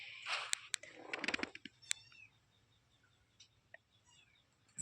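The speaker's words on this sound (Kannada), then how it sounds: "ಬೆಕ್ಕಿನ ಮರಿ." A kitten meows in a quick series of short, high cries close by at first, then fades to a few faint chirps with a low hum beneath.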